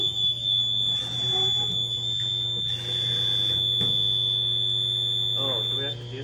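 High school fire alarm sounding during a drill: a steady, piercing electronic tone held continuously for about six seconds over a low mains-like hum, with faint voices and movement in a hallway beneath it.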